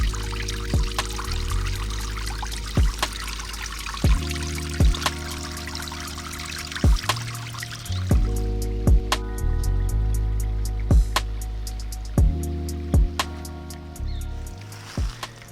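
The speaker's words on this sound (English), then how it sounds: "I was following up this little creek" Water trickling and splashing along a small rocky creek, a steady close babble with occasional brighter drips and plops standing out over the continuous flow, no voices.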